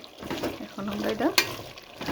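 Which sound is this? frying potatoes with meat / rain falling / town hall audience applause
frying potatoes with meat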